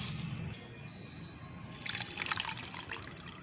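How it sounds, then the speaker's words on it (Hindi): Liquid ash fertilizer is strained and poured, making a steady trickle that grows into a brighter splashing stream partway through. It is close and moderately quiet, with no talking. "इसके बाद हम इसे छानेंगे।"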